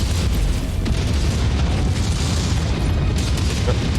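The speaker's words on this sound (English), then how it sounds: "Look at the explosions." Loud, continuous booming explosions from the mech combat game MechWarrior 5: Mercenaries, with heavy rumbling blasts overlapping one after another.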